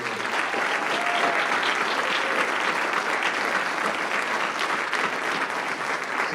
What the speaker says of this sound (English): let's give them a huge North Scott round of applause